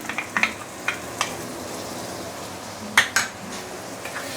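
Blended chili going into a hot pan for Muar assam fish with king tiger grouper: a low sizzle runs underneath while a utensil clinks and scrapes against the pan in a few sharp, scattered strikes.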